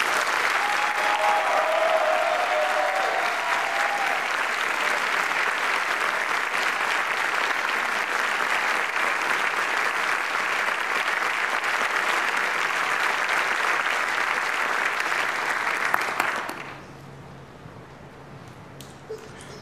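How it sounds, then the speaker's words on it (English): Sustained audience applause at a military graduation concert fills a large hall, steady and dense for about sixteen seconds before abruptly dying away to near quiet. "Please join me in a round of applause for the Distinguished Honor Graduate of Class"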